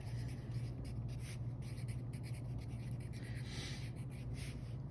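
A pen or pencil writes by hand on paper during a math lesson, soft continuous scratching strokes in quick irregular bursts, faint and close, over a low steady hum with no talking.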